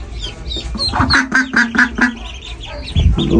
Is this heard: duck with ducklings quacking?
yes